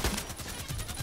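Rapid automatic gunfire in the online shooter Contract Wars, a quick burst of repeated shots over about a second, fairly close and alone.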